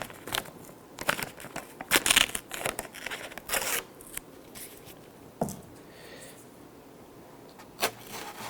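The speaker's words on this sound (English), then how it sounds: "using a 4-inch wide piece of blue painter's tape, I'll just lay a piece of tape right where the bridge is going to go." Blue painter's tape, four inches wide, being torn and pressed onto an acoustic guitar top where the bridge sits: close, irregular ripping and crinkling bursts, some sharp and loud, separated by quieter rubbing.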